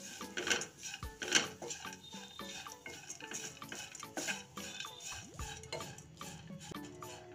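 Grated dry coconut and dry fruits roasting in a pan, stirred with a utensil that gives repeated scraping and clinking strokes of uneven rhythm, close and moderately quiet, with no talking.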